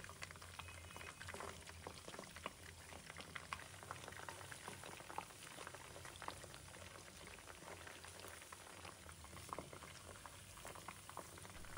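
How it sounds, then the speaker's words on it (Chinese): Pork neck deep-frying slowly in oil over medium-low heat, a faint continuous bubbling crackle with tiny pops, steady throughout and without talk. "我们再给它翻个面继续炸，全程一定要开中小火，给它慢慢的炸"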